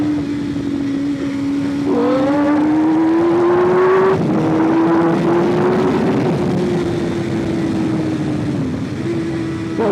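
A £1500 track bike engine revs hard on track, a sustained loud tone rising and dropping with a quick throttle blip around each downshift, no voices over it.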